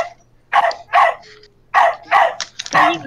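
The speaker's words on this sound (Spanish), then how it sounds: "Perro." A dog barks repeatedly and loudly nearby in a room during an online class, six sharp barks in two groups of three.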